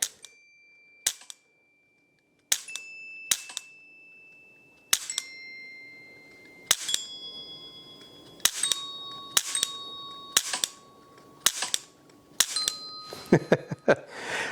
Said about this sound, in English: Okay, you got to hit the bottom of the bell to make it ring.